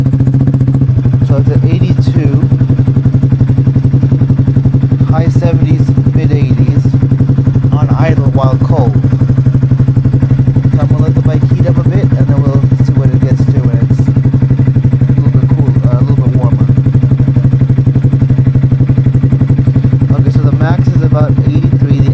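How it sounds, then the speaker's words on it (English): Honda Grom motorcycle fitted with an SC Project aftermarket exhaust, idling close by with a loud, steady low rumble that never lets up, while someone talks over it throughout. "Once I start the bike, it should go up a bit."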